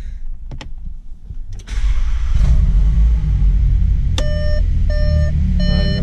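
A VW Polo GTS fitted with a new intake cranks and settles into a steady, loud idle rumble, then a series of short, evenly spaced electronic beeps from the car sounds in three bursts over the idling engine.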